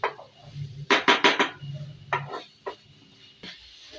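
Masala with a little added water stirred in a metal cooking pot for chicken keema, a quick cluster of clanking spoon strikes, then scattered scrapes and knocks against the pot, close and clear.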